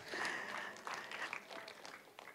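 A church congregation applauds during a sermon, a steady wash of many hands clapping together, faint and distant in the room, lasting a couple of seconds.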